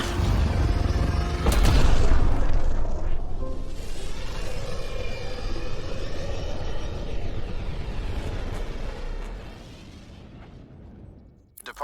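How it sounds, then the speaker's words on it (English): Tempest spaceship from Mass Effect: Andromeda departing, a deep booming rumble of thrust swelling early then a sustained roaring drone that slowly fades, loud and alone with no voices. "Nexus Control, this is the Tempest, ident 2527, prepping to depart."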